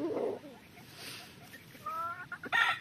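Hens cluck in short, clipped bursts nearby, with a few higher squawks toward the end amid light background noise.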